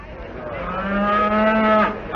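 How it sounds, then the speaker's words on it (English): A cow moos in a barn, one long drawn-out low call that swells and then breaks off, loud and close with no other sound over it. "would you mind keeping that cow quiet?"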